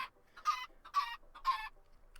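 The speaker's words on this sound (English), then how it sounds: "we have the chicken doing its thing with the eggs" Minecraft chicken clucking in Stoneblock 3, three evenly spaced close game-sound clucks, each with a short lead-in note, alone without talk.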